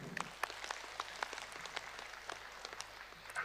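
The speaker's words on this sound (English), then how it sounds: "Please give a big round of applause to our panel members." Audience applause for panel members at a closing ceremony in a convention centre, heard as scattered, fairly faint claps over a low steady hum, sparse rather than thunderous.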